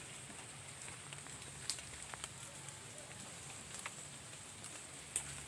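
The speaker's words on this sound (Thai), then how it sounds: "ฝนตก พี่น้องเอ้ย" Rain falls outdoors in a soft, constant patter with a few sharper drops hitting nearby surfaces, faint and steady with no voices.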